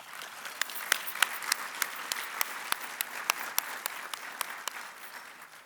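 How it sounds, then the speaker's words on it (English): Audience applauding police, fire and rescue responders at a city event, with sharp individual claps standing out above a steady bed of clapping throughout. "Let's give each of them a round of applause."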